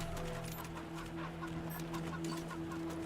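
Cyborg chickens in the video game Wasteland 3 cluck repeatedly in short bursts over a steady hum of game background sound.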